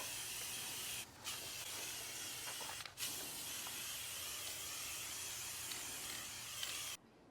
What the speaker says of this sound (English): we decided to use spray paint just because it was so much quicker